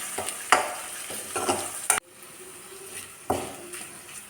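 Crushed shallots and curry leaves sauté in hot oil for a papaya and dried bean stir-fry, a soft sizzle punctuated by a few distinct scraping stirs and clacks of a spoon against the pan, close up, with no talking.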